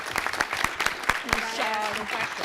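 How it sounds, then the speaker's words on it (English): Audience applause for a team at a city council meeting, scattered claps rising into a moderate round of clapping, with a voice speaking over it toward the end. "can I get a round of applause for this great team, because they deserve every bit of it"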